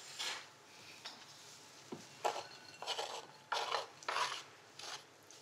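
Parmesan being chopped finely with a knife for chicory aperitif biscuits: a series of soft rasping, scraping cuts in irregular bursts, close and fairly quiet, with no talking.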